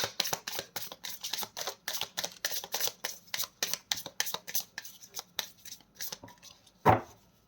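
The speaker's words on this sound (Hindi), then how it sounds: "This is my last shuffle." Tarot cards are shuffled by hand in a quick, even run of crisp riffling snaps, close and clear, ending with one sharper card slap just before the sound stops.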